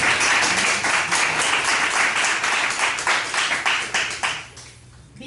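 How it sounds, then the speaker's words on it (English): Audience applause at a live talk event, a dense crowd of hands clapping loudly and steadily, then thinning into scattered claps and tapering off near the end. "I want you guys to give Vstuck another round of applause"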